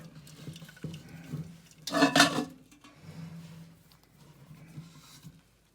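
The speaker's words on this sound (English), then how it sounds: "So here I'm draining out all the pasta." Boiled pasta is drained in a kitchen sink, a brief rush of pouring water and splashing peaking midway, surrounded by quieter clatter of a pot and colander.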